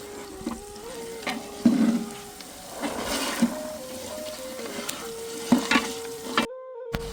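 Green beans and peas fry in a pan for a village-style mixed vegetable dish, giving a close, steady sizzle broken by scraping stir strokes, with no voices.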